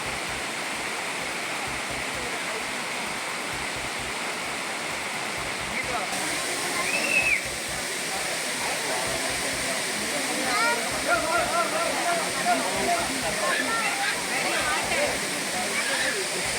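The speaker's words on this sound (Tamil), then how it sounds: "குற்றால மீன் அருவி, ஐந்தருவி, புலியருவி, சிற்றருவி உள்ளிட்ட அனைத்து அருவிகளிலும் தற்போது நீர்வரத்தானது அதிகரித்திருக்கிறது" Courtallam waterfalls, including Main Falls, Five Falls, Tiger Falls and Small Falls, pour heavily after rain in a loud, constant roar that holds steady throughout with faint voices mixed in.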